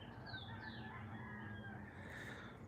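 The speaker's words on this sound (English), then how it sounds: "What is Rooster crowing about?" A rooster crows at dusk, its drawn-out call rising over steady outdoor background noise, moderately distant and alone with no talk.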